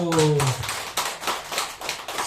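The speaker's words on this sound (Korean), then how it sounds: "새 일을 행하시는 하나님께 박수" A church congregation claps during a Korean sermon, with a burst of loose, uneven hand claps following a brief spoken phrase and continuing at moderate volume.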